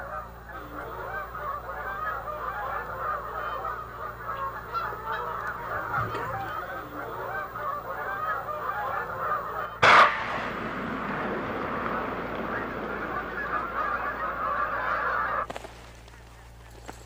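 A large flock of Canada geese honks continuously in winter at Blackwater National Wildlife Refuge, a dense overlapping chorus broken by a sharp knock partway through.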